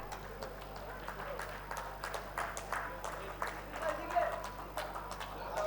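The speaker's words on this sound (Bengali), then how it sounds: "আবার করতালি হয়ে যাক।" Audience clapping at a book release event for Aajkaal Publishers, a moderate, continuous patter of many hands with some louder bursts, with voices in the room underneath.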